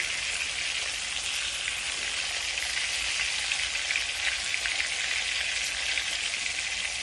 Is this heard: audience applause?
no